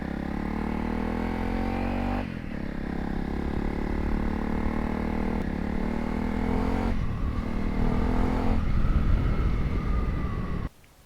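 A Honda CRF 300 Rally off-road motorcycle engine runs steadily and loud up close, holding a constant throbbing hum with slight shifts in pitch before cutting off abruptly at the end.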